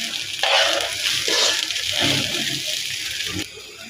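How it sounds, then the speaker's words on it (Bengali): Washed rice is stirred in a hot pan for hilsa pulao, giving a soft sizzle broken by scraping, rustling stirs that come in uneven bursts close by. "এবার আমি এই চালটাকে নেড়ে চেড়ে নেব।"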